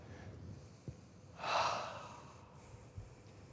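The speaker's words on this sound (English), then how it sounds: "And everybody take a deep breath." A single deep breath drawn slowly and audibly, a soft airy swell lasting about a second, close and alone in a quiet room, with a small click before it.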